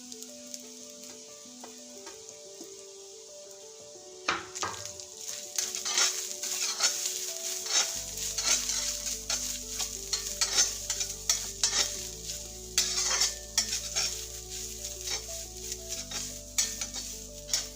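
Grated coconut stir-fried in a pan: after a quiet start, close, brisk spatula scrapes and scratches repeat steadily over a low sizzle and a constant background hum.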